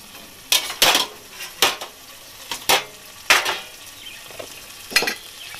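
Metal clatters on a cooking pot of doi katla fish curry on a gas stove, with a handful of sharp, ringing knocks and scrapes spaced about a second apart, close and fairly loud.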